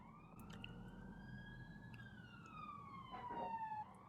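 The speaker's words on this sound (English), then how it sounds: "I swear that is the first siren that's gone past all day." An emergency vehicle siren passes outside, a faint wailing tone that sweeps slowly up and then down against steady background hum, growing slightly louder toward the end.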